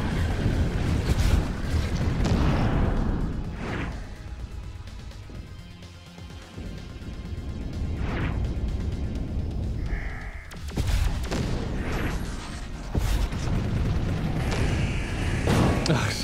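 Explosions in the video game Overload, heavy booming bursts and roaring rumbles spread across the passage, loud and up close, with gameplay noise running between them.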